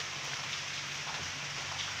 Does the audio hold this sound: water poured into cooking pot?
no